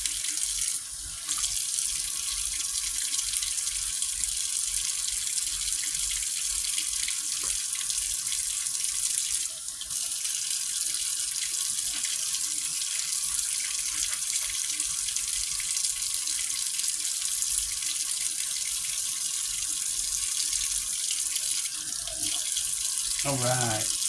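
Hot water runs steadily from a tap while a Cabbage Patch Kids doll is washed in a sink, a constant hissing splash lasting throughout, with brief handling noises and a short break near the middle.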